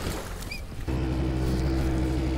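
A fishing and hunting boat moves on the water, with a steady, loud rumble and wash. A sharp shift partway through settles into a constant drone with wind buffeting the microphone.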